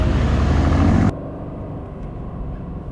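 A 2020 Aston Martin Vantage coupe in track mode roars loudly for about a second, then abruptly drops to a lower, steady engine rumble heard from inside the car.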